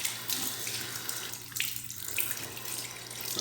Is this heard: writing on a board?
no